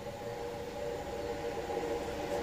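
A Freightliner freight train led by locomotive 66254 rolls past at Swanscombe at moderate speed, a faint, steady rumble with a constant tonal whine and no voices.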